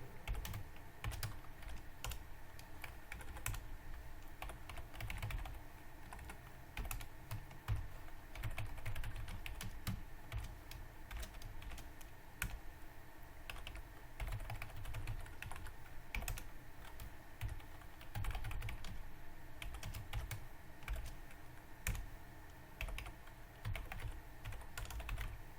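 Continuous quiet typing on a computer keyboard while writing code, with irregular clicky keystrokes and occasional louder taps, close and alone without speech.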